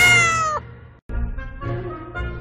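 A cat meows loudly and close up, giving one long drawn-out call, then after a brief pause two or three shorter meows in a row, with no talking.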